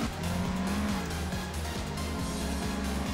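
A race car drifts in the Assetto Corsa racing game, its engine note rising and falling in steady cycles under continuous tire squeal, loud and close throughout.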